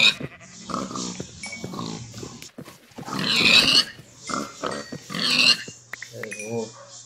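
Pigs in Minecraft grunt and squeal repeatedly at close range, mixed with game sounds and someone talking.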